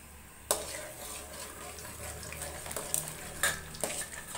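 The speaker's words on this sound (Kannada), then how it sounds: "ಫಸ್ಟೇ ಕಡಲೆ ಬೀಜ ಸೇರಿಸ್ಕೊಂಡು ಫ್ರೈ ಮಾಡ್ಕೊಂಡು ತೊಗೊತೀನಿ." Peanuts frying in hot oil in a pan while being stirred, a steady soft sizzle with a few sharp scrapes and clinks of the spoon against the pan close by.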